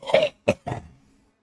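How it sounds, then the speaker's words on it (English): A man gives a short burst of coughing and throat clearing, three quick harsh hacks close to the microphone, the last trailing off into a grunt. "I cough like this 5 times a day"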